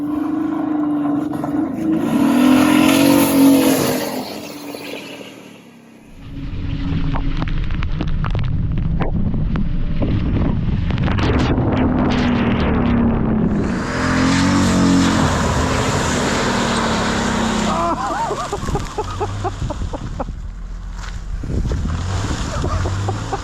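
A Chevy Malibu drives into a frozen Texas pond during an ice storm, its engine revving loudly and close as ice cracks and water churns, with brief shouts mixed in.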